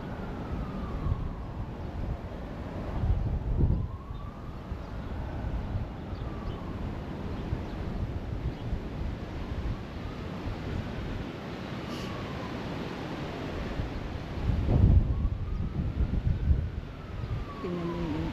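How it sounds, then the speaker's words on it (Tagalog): Strong wind blowing along a cherry blossom walk beside a small creek, a steady gusty rush buffeting the microphone, with a distant siren rising and falling in the background. "Ang hangin. Grabe."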